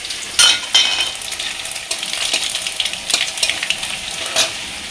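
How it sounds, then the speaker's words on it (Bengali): Dry red chillies and nigella seeds hit hot oil for tempering with a sharp burst of crackling, then keep sizzling and spitting close up at a steady level, with no talking. "তেল গরম হয়ে গেছে, দিয়ে দেবো ফোড়নে"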